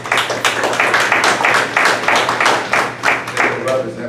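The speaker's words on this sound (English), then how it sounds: "I like to applaud young people who are doing a great job." A handful of people clap for young people at an NAACP and YMCA community meeting, a close, fairly loud, uneven rhythm of individual claps with no talk over it.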